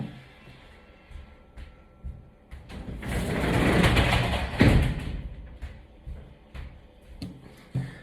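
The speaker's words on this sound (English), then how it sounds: "I'm just going to shut the door." A door is pushed shut indoors, a broad rising rush of movement ending in one dull thud midway, followed by quieter room noise and faint creaks.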